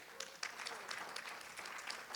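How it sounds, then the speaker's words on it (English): An audience claps in an indoor venue at a talk, a steady patter of many hands that stays fairly even throughout, with a few sharper claps standing out. "since you guys are in the clapping mood"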